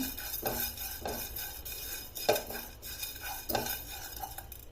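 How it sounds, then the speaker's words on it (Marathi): Urad dal and a little rice are dry-roasted in a pan for Udupi-style sambar, and a spoon stirs them with soft scraping strokes at an uneven pace, fairly quiet and with no talk. "हे डाळी तांदूळ भाजायला थोडा जास्त वेळ लागतो म्हणून मी हे सर्वात आधी टाकलं"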